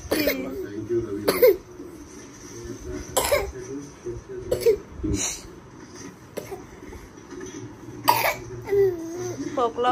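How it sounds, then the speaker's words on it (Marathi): Repeated coughs and throat clearing in a family setting, several sharp bursts spaced through the stretch, close and fairly loud, with children's voices and chatter in between. "खोकला वापस झाला."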